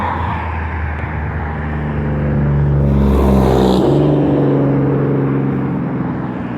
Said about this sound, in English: You have loud cars on the street.